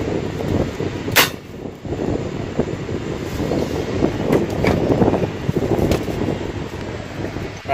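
Sharp gunshots fired outdoors in strong wind during a test of Wesi Kuning and Samban Babi amulets, a loud crack near the start and fainter shots later, over steady wind rumble.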